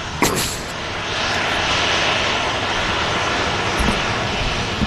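A Ryanair jet arriving at Manchester Airport roars steadily at moderate distance, with a broad, sustained engine rush that holds level throughout.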